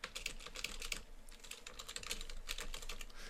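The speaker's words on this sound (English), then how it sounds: "I can just start typing." Rapid keystrokes on a computer keyboard while entering text in Photoshop, a steady close-up clatter of clicks running without pause and with no voices.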